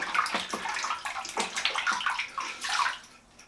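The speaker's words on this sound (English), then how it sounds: "Give your brush a clean out." A shaving brush being rinsed clean under running water, with close splashing and sloshing in uneven bursts for a few seconds before it tapers off.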